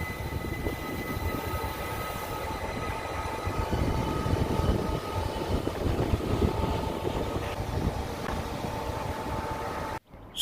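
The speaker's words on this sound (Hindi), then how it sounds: "ये जी देख रहे स्विस ट्रेन हैं ये वाली।" Swiss train running with a steady rumbling roar and faint rail hum, moderately loud and continuous, briefly dropping out near the end, no talking.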